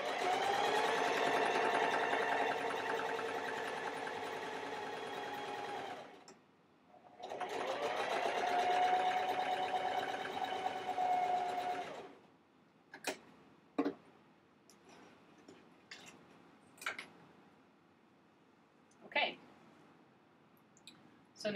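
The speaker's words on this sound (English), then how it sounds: "now I'm going to run a seam right along that edge" A domestic sewing machine runs a seam along the edge of a fabric photo pouch in two long steady bursts of whirring stitching with a short pause between, then a series of sharp separate clicks and ticks.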